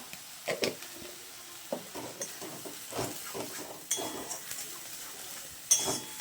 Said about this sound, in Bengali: এটাকে খুব ভালো করে আমি নাড়াচাড়া করব